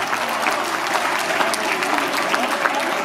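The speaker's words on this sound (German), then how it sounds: "Gratulation und ganz kräftigen Applaus" A crowd at a Pinzgauer cattle show in Stuhlfelden gives a steady, dense round of applause, loud and continuous, with many hands blending into a wash of claps and no voice above it.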